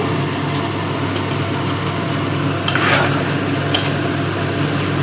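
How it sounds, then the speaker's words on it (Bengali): Masala being stir-fried with a splash of water in a pan over medium heat for a Bengali rohu fish muitha kalia, a steady soft sizzle with occasional scraping stirs and a brief louder scrape midway. "এই যে জলটা দিয়ে এটা একটুখানি কষাতে হবে, একটুখানি মিডিয়াম আঁচে রাখবো আর এটাকে কষাতে হবে।"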